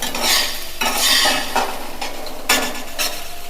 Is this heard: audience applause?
no